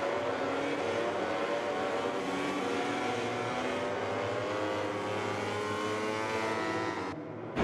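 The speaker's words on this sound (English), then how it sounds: "any moment now, the MotoGP bikes will be revving their engines" Motorcycles from the racing game MotoGP 20 drone at Losail in Qatar, a steady, loud engine roar with rising harmonic sweeps that holds for about seven seconds before briefly dropping away and returning.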